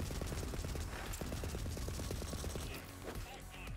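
Rapid automatic gunfire from turrets in the video game Borderlands 3, a dense stream of sharp shots over loud game noise that continues through the whole stretch.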